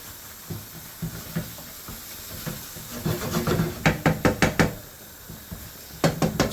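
Prawn madras sauce in British Indian Restaurant style being scraped back into a hot pan, giving a run of sharp knocking scrapes over a steady sizzling hiss, clustered in quick repeated strokes near the end.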